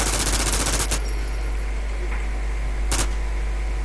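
Rapid automatic gunfire in the online shooter warAlice during a boss fight, a loud burst of fast shots followed by a couple of sharp single bangs over constant game noise.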